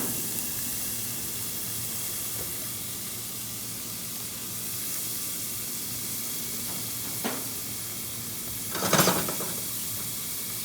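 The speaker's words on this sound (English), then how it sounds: "I'm going to add some nice diced onions into it. I'm going to saute this up." Diced onions softening in a hot pan give a steady, quiet sizzle and hiss with a few small pops near the end, no voices.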